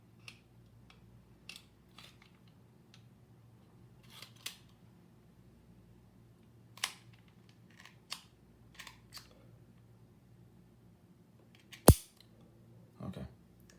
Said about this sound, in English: And then we reinsert the magazine.